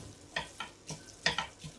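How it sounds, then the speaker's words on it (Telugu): Grated beetroot with salt frying in a pan, soft sizzling punctuated by several quick scraping stirs of a spatula, close and fairly quiet, with no voices. "వాటర్ అంతా ఎగిరిపోయే వరకు ఇలాగే ఫ్రై చేసుకోవాలి"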